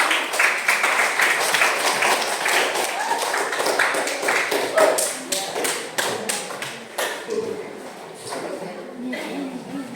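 A classroom audience claps in a dense, sustained round of applause that thins out toward the end, with voices speaking over it.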